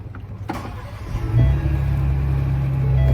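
Ford Bronco (2021–2025) engine cranking briefly and catching, then settling into a steady low idle rumble close by, preceded by a soft click, no talking.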